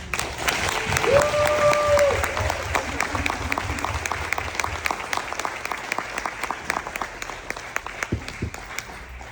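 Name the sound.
applause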